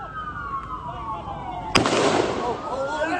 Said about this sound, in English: police are firing from east and west